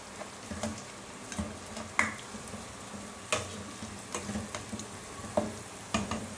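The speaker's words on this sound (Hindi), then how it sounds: "अदरक को जो है वो जस्ट हमने 1 मिनट से भी कम भूनना है इसके अंदर" Grated ginger frying in a pan of hot oil, a soft steady sizzle broken by scattered stirring scrapes and clicks, fairly quiet and close.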